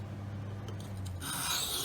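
A streamside knife blade scrapes against a sharpening stone while its edge bevel is set, giving a short rasping rub that turns louder and harsher in the final half second, with a low hum underneath.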